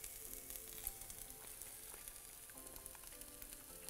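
Seitan and vegetables fry in a pan with a faint, steady crackling sizzle and scattered small pops throughout.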